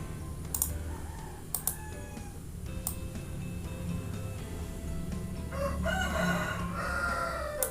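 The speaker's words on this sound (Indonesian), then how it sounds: "Waduh, ada suara ayam." Rooster crowing in the background, a drawn-out call rising near the end, over steady room noise and computer keyboard typing.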